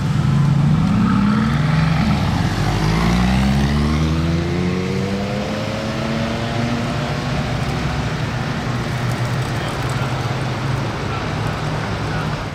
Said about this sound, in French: La Revuelto là, qui vient de passer, il roulait tout doucement, je crois même qu'il était en électrique. Bah, il a passé le passage piéton là-bas, il a mis pied plancher